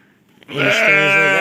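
After a brief quiet moment, a single loud, close lamb's bleat rings out and is held for nearly a second.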